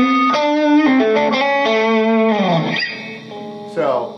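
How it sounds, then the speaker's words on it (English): Electric guitar played through a multi-effects pedal with the drive turned way up and extra mid-range, giving sustained, heavily distorted notes and chords that slide and ring out, loud and close, with a brief strum near the end. "So there's distortion choices."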